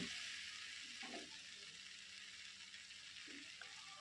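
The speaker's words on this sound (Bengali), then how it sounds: "লঙ্কার গুঁড়োটা দিয়ে আমি আবারও বেশ ভালো করে এটাকে মিশিয়ে নেব।" Pav bhaji masala stirred with Kashmiri chili powder in a pan gives a soft, steady frying sizzle with a couple of faint scraping stirs, quiet and close, with no voices.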